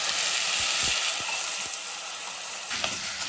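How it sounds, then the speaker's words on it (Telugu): Water poured into a hot pan of bisi bele bath sets off a loud, steady sizzle of steam and spitting that lasts throughout, with a few soft knocks early on. "కొన్ని వాటర్ వేసుకోవాలి."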